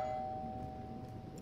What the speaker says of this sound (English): Oh, now it's a doorbell.